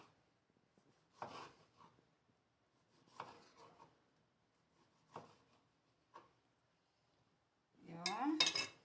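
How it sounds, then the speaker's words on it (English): A knife cuts tomatoes into small pieces on a board: short, soft cutting bursts spaced about two seconds apart in a quiet kitchen, ending with a louder scraping clatter. "now it's time to cut our tomatoes"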